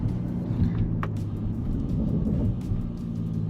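A steady, low exhaust burble from a Bentley Bentayga Speed W12 rumbles continuously throughout, even and unbroken, with no voices.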